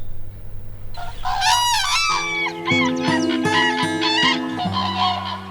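Common cranes call in the open, loud honking and trumpeting calls overlapping in a rapid, repeated series from several birds, following a brief low hum at the start.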